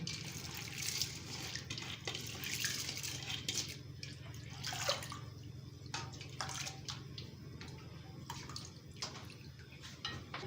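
Soaked mash lentils poured into a pot of water while cooking white daal, giving a steady wet splashing and trickling with scattered clinks and a low background hum, with no talking.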